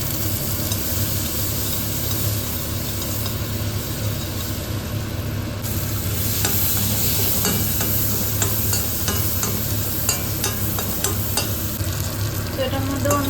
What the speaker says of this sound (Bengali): একইভাবে এগুলোকেও কিন্তু হালকা ফ্রাই করে নেব